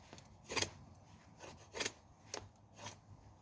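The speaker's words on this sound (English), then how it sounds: "I could take literal shavings with this blade." A hand-forged knife blade shaving curls from a piece, heard as four or five faint, short scraping strokes spaced about a second apart, close and quiet with no talking.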